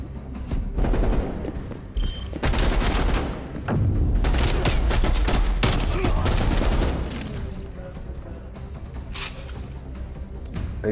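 An LMG light machine gun firing in the video game Black Ops Cold War: long, loud, continuous bursts of rapid automatic fire mixed with booming impacts, close up, easing to quieter shots near the end.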